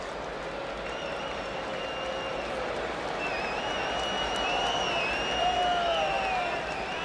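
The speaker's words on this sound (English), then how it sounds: "And they came to cheer." A large baseball crowd at SkyDome in Toronto for an American League playoff game between Oakland and the Blue Jays cheers and applauds in a steady, dense roar that swells slightly toward the end, with no talking over it.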